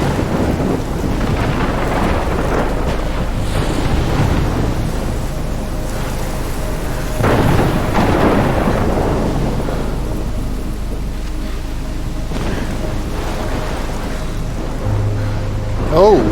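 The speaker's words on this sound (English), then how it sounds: "Oh, that's a heck of a storm." A thunderstorm with heavy rain in the video game Life is Strange roars loudly and continuously, with deep rolling thunder swelling through a dense wash of rain and wind.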